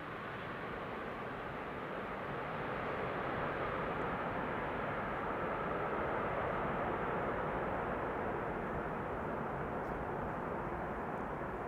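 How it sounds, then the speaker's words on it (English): A Boeing 747-400 arriving from Nairobi comes in to land at Amsterdam Schiphol, a steady broadband roar of jet engines holding at moderate loudness and swelling slightly as it passes. "The other one arriving from Nairobi will be a 747-400."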